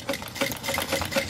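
Sewing machine stitching a bag seam at a 1/8 inch seam allowance, a steady close mechanical whir with rhythmic needle pulses about every quarter second, heard on its own.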